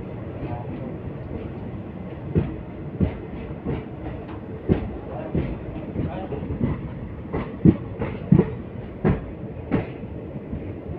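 Teesta Torsa Express, train number 13141 down, running on rails at night, with a steady low rumble and periodic clacks and thumps from the wheels at the rail joints throughout.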